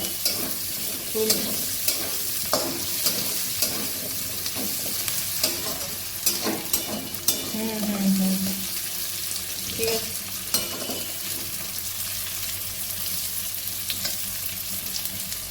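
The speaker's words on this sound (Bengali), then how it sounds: "কেটে আলুটা পেঁয়াজের সঙ্গে একটু ভাজা ভাজা করে" Potatoes fry with onions in a pan, a close steady sizzle broken by regular scraping knocks of a spatula stirring them.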